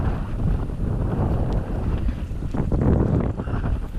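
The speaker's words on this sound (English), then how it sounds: "It is storming out here." Strong, gusting wind roars and buffets across Big Virginia Lake, California, with choppy waves slapping nearby; no voices, just continuous stormy rumble.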